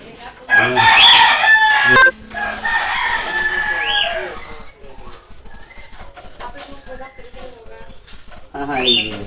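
A rooster crows loudly and close at a village home, followed by clucking hens and other farmyard sounds, with a second crow near the end.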